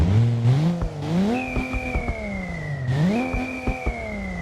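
A Holden VL or VN car engine in BeamNG.drive revs repeatedly, pitch sweeping up and down through the gears with a high whine layered on top, loud and close.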